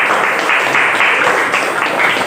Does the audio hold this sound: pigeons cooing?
no